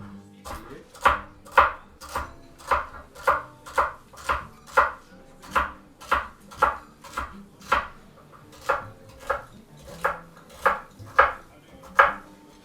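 A knife chops celery on a cutting board in a steady run of about twenty crisp, close strokes, evenly paced with faint background sounds between them.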